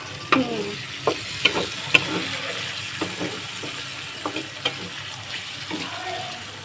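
Yardlong beans stir-fried Chinese style in a pan, with scattered scraping clicks of a spatula over a low steady sizzle, the sounds close and moderately loud, no talking.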